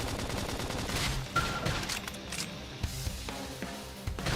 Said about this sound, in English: Topple them with some gunfire!